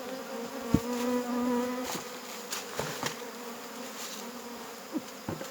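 Wild cavity-nesting honey bees buzz nearby during honey harvesting, their drone rising and falling as individual insects fly close, with a few faint taps in the background.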